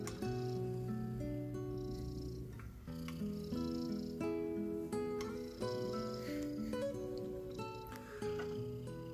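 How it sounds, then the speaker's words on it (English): A cat purrs while kneading a person lying on a settee, a soft rhythmic rumble that continues steadily, close and fairly quiet, with no talking. "I lie here on the settee and Pangur massages my front, and then she insists I turn over and massages my back"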